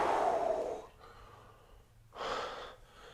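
Deep audible breaths during a standing strength and stretch exercise: a long, airy exhale up close, a quiet pause, then another shorter breath, soft and unhurried.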